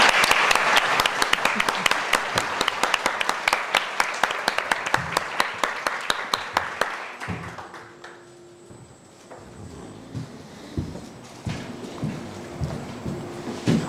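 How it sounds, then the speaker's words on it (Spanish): A congress audience gives a big round of applause for two speakers at a cultural conference; dense clapping fills the room for about seven seconds, then thins to a few scattered claps with shuffling and stray voices. "Un fuerte aplauso para los dos."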